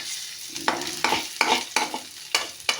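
Onion fries in hot oil in a small pan while a spatula stirs it, giving sharp scraping strokes at an irregular rhythm over a bright sizzle, close by with no talking.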